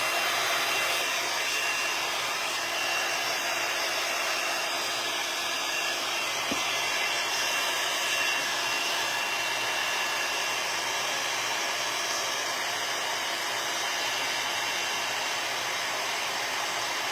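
A hair dryer blows steadily and loudly, close by, drying paint on a wooden bluebird craft kit, a continuous broadband whoosh with no talk over it.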